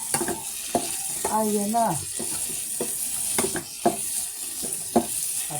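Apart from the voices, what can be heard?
sautéing cabbage, onion, garlic, tofu and ground meat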